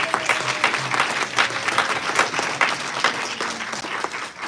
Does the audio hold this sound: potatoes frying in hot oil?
no